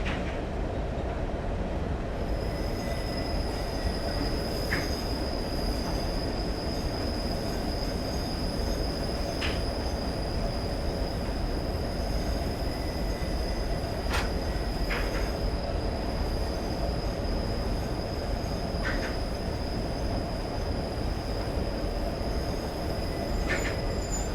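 A Class 37 diesel locomotive in Train Simulator 2015 runs steadily between Kyle of Lochalsh and Achnasheen, with a continuous loud rumble, a sustained high wheel squeal and periodic sharp rail-joint clicks, with no voices.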